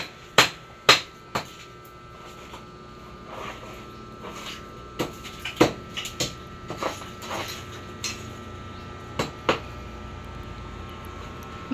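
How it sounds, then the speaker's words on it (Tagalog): A hammer pounds to knock a ground piece loose while a cooking stove is built. Sharp metallic strikes come at irregular intervals, some loud and some lighter, over a quiet background. "kanila na lang pong pinupokpok ng martilyo para matanggal talaga"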